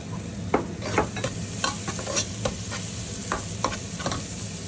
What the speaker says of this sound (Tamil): இப்போ வெங்காயம் ஓரளவு வதங்கி வந்துட்டு இப்போ நாங்கள் வந்து இதோட உள்ளியையும் கருவேப்பமிலையும் வந்து சேர்த்துக்கொள்கிறோம்